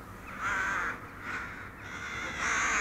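Crows around a lone pig on a free-range farm give a few steady, moderately close caws over faint outdoor background noise.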